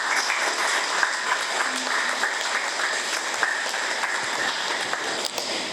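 Guests at a quinceañera party in Acapulco clap for Jocelyn, filling the room with steady, lively applause that continues for several seconds.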